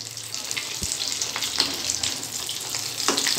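Bread paneer vada deep-fries in hot oil until golden brown with a steady, close sizzle and bubbling, joined by a few soft clinks of a utensil.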